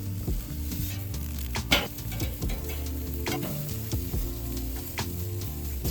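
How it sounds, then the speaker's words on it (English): Peppers and onions sizzle steadily in a hot pan, a continuous close frying hiss with occasional stirring clicks and scrapes, no voices. "Let's add the peppers and onions. These will cook really fast, maybe 3 or 4 minutes per side."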